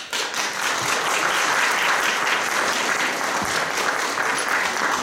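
A concert audience applauds steadily and loudly as a singer-songwriter is invited onto the stage, dense clapping that holds evenly for several seconds with no voices.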